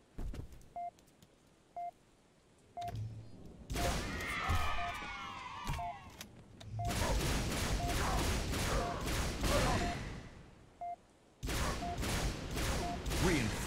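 Bursts of automatic gunfire and heavy impacts fill a Halo 3 ODST Firefight match, broken by short gaps with sharp electronic beeps, with loud sustained volleys near the end.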